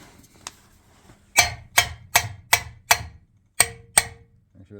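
Hammer blows tapping valve spring keepers to seat them on a 2016 Ram 1500 5.7 Hemi engine, with seven crisp metallic taps in a steady rhythm after a few faint clicks, close and distinct.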